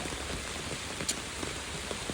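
Rain falls in a steady soft patter on surfaces outdoors, fairly quiet and continuous with a few sharper drips standing out, no voices.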